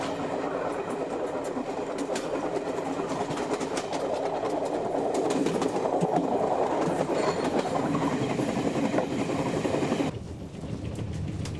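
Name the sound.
Gyeongjeon Line train running on rails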